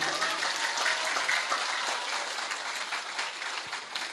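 Audience applause at a public religious gathering in Madura: steady, dense clapping from a crowd that holds for several seconds and tapers slightly toward the end, with no talking over it.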